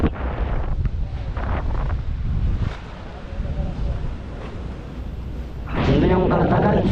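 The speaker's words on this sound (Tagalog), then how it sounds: "Mahangin dito, mahangin." Strong wind at the end of Lawis in Mariveles, Bataan buffets the microphone with a continuous rough roar, while a person talks over it near the end.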